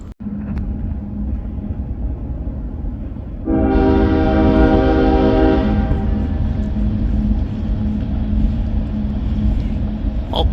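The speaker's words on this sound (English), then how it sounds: "Here comes the train" A train rumbles loudly past near a river bridge, and a strong horn blast rises over the steady roar of the rolling wagons, which carry on after the horn fades.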